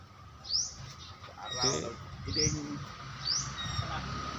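Four short, bright bird chirps at roughly one-second intervals over a low background hum and faint murmur.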